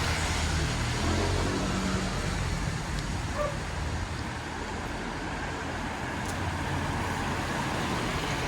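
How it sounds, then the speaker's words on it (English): Traffic flows along a busy street in the rain, a steady, fairly loud roadway rumble of passing cars with no clear breaks. "we're on a busy street, we have to look after the cars"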